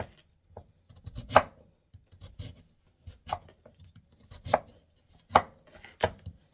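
A larger kitchen knife slices through sweet potatoes (yams) on a cutting board, giving several sharp, close chops at an irregular pace with brief scraping between them.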